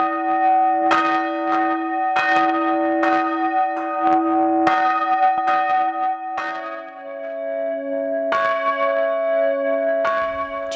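The church bells of St Bartholomew's, Otford, ring out loud and close in a steady sequence of strikes, their long overlapping tones ringing on between each clang with no voices heard.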